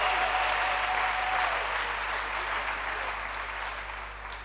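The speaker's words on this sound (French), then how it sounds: "Acclamation à Jésus-Christ" Church congregation applauding, a sustained wash of many hands clapping that starts full and gradually fades over four seconds, with a faint tone briefly heard early on.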